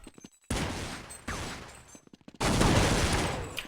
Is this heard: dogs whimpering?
no